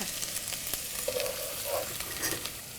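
Chopped garlic and ginger fry in hot oil, a close, continuous hiss with light stirring scrapes and a couple of brief tonal squeaks partway through, no talking.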